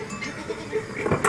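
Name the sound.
Argentata dell'Etna goat bleating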